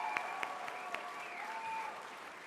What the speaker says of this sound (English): Let's have a round of applause for Rob Ford.